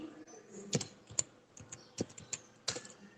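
Keys tapped on a computer keyboard while entering data into an Excel spreadsheet, a short run of light irregular clicks, close and quiet, with no talk.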